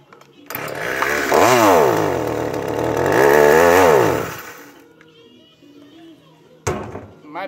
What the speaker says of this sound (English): Chainsaw's old as dirt.